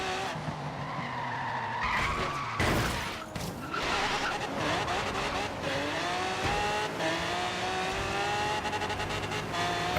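A racing car's engine revs hard in Forza Horizon 3, its rising whine mixed with loud tire skids and squeals, close and continuous.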